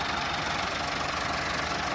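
A 385 tractor engine runs steadily at close range with a dense, rattling knock and an even throb, loud and uninterrupted.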